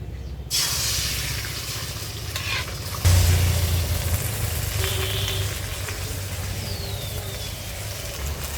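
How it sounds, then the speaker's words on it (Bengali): Beaten eggs seasoned with chili powder and salt fry in a hot pan for egg biryani, giving a steady close sizzle and hiss that jumps louder when they hit the oil and keeps going without any talking. "এবার আমি ডিম ভেজে নেব"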